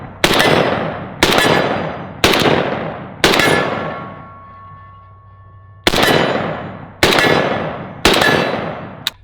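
Seven loud, sharp shots from an AK rifle firing 7.62 rounds at a steel target, close to the listener. Each report rings and decays, spaced about a second apart with a longer pause after the fourth shot.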